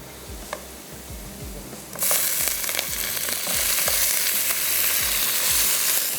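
Boiled beef hits hot oil and a loud, steady sizzle starts up partway through, with low clanks and rumbles of a pan before and under it.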